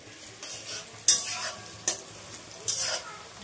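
Onions frying in a pan for a mutton dish are stirred with a utensil, giving soft sizzling under repeated louder scraping strokes at irregular intervals, close by.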